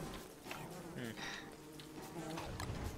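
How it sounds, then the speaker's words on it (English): A bee buzzes in the Don't Starve Together video game, a thin continuous drone mixed with other game sounds and music. "Chester keeps taking hits by this stupid bee."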